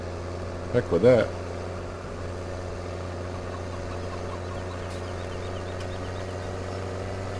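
A tractor engine idles and rumbles steadily in Farming Simulator 17, a constant low drone throughout, with a brief spoken remark near the start.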